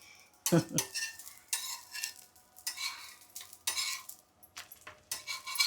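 Jaggery wheat dosa frying on a pan with ghee, quiet intermittent bursts of sizzle and scraping, with a sharp metallic clatter near the start.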